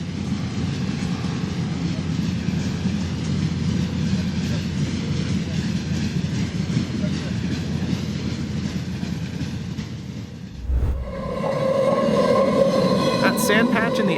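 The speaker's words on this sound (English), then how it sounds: "Nothing screams, "Don't mess with me," like a train hauling military trucks." Train hauling military trucks rolling past: a steady loud rumble of wheels on rails lasting about ten seconds, then a brief dip and a brighter clattering, squealing section near the end.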